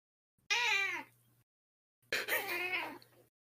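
A stray cat with a mustache-like marking meows twice, close and clear, each a drawn-out wavering cry of about a second separated by a short silence.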